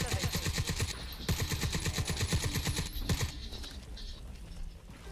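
Rapid bursts of gunfire in the video game Crysis 3, loud and close, firing in quick rhythmic volleys with brief pauses between them.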